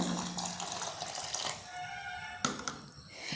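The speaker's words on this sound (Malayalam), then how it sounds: "ഇനിയിപ്പോൾ അതിലേക്ക് ഞാൻ വെള്ളം ആ ഒരു അരിയുടെ മേൽഭാഗത്തിൽ വരുന്നത് വരെ വെള്ളം ഒഴിച്ചെടുക്കുന്നുണ്ട്." Water pours steadily into a vessel of soaked rice until it covers the grains, ready for grinding into palappam batter. The splashing is close and continuous, with no talking.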